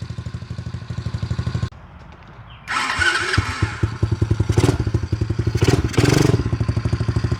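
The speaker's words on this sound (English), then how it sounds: "Sounds mean for a little 8-year-old dirt bike" A small 110cc dirt bike engine chugs in a rapid, steady putter, briefly dropping off before revving back up with sharp, loud bursts nearby.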